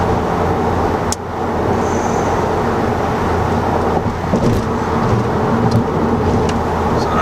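A Volkswagen Golf GTI Clubsport's engine and exhaust, with the resonator deleted, drone steadily from inside the cabin, with road noise and a few brief knocks and clicks along the way.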